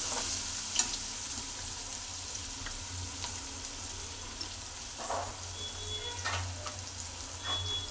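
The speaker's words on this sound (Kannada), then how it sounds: "ಕರಿಬೇವು, ಬೆಳ್ಳುಳ್ಳಿ, ಈರುಳ್ಳಿ, ಚಕ್ಕೆ, ಲವಂಗ, ಮರಾಠಿ ಮೊಗ್ಗು, ಪಲಾವ್ ಎಲೆ ಎಲ್ಲ ಫುಲ್ ಎಣ್ಣೆಯಲ್ಲಿ ಫ್ರೈ ಮಾಡ್ಕೊತಾ ಇರೋದು" Curry leaves, garlic, onion, cinnamon, cloves, marathi moggu and bay leaf fry in plenty of oil for a chicken gravy, a continuous close sizzle broken by scraping stirs and spattering pops, with no talking.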